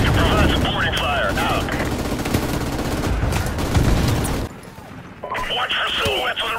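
Sustained rapid gunfire from a Modern Warfare battle, dense and loud with overlapping bursts, under radio-style voices shouting orders; a brief lull near the end before firing and voices resume.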